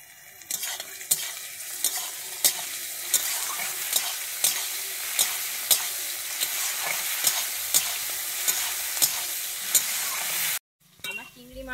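Prawns fry in hot oil in a pan with a steady, close sizzle, punctuated by regular clacks of a spatula stirring roughly every half second, ending in a brief cutoff.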